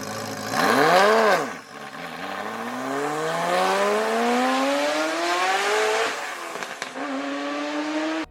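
A half-V8 Pontiac Trophy 4 inline four-cylinder engine runs loud and alone, its pitch sweeping up and down sharply, then climbing steadily through a long rev before dropping and rising again.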